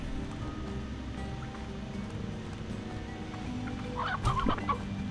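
A chicken clucks in the Slime Rancher video game. A short burst of clucks arrives toward the end, over a constant low droning game ambience.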